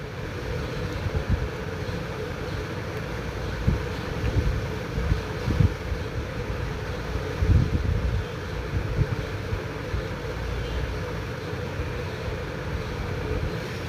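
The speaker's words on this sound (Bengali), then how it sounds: "বিকেলবেলা স্নিগ্ধ হাওয়া হাওয়া বাতাস বইছে" Steady wind rushes and buffets the microphone outdoors by a lake in Ramna Park, Dhaka, a constant low roar with faint water in the background, no voices.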